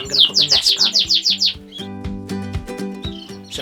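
Canaries in a breeding cage, a heavily variegated yellow cock with a self-green buff hen, give a rapid run of bright chirps and tweets in the first second and a half, then fainter calls over steady low tonal hum.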